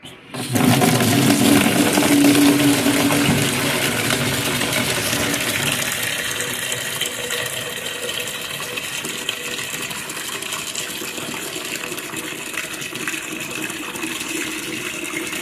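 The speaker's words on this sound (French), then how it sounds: "on va remplir notre chaudière d'eau avec l'eau du puits" Well water pouring and gushing into a bucket in a cabin bathroom, a steady broadband rush that starts abruptly and continues loud and close throughout, easing slightly after the first few seconds.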